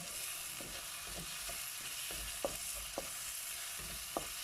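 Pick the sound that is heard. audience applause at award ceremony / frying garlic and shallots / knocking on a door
frying garlic and shallots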